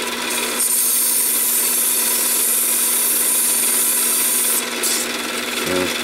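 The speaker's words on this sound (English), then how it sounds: "you can hit it with different sandpapers while it's rotating and get all kinds of different finishes" Fine sandpaper held against aluminum spinning on a mini lathe gives a steady bright hiss of friction over the motor's hum, loud and close, with no voices.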